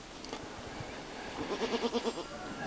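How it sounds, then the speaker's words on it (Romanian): A goat on a farm bleats once in a wavering, pulsing cry of about a second, fairly close, after some quiet shuffling background noise; the goat is awaiting the birth of a kid. "Astăzi așteptăm să fete ultima căpriță din cârdul nostru."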